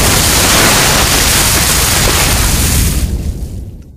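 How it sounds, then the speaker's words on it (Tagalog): A loud explosion effect from a river, a dense, broadband roar that holds steady for about three seconds and then fades away, with no voices. "may narinig silang nakakagimbal na pagsabog mula sa ilog"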